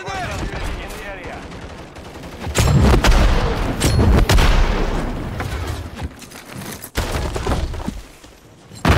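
A grenade bursts with a heavy boom in Call of Duty MWIII combat, surrounded by chattering gunfire and debris crashes, loud and close, with voices calling out over the fighting.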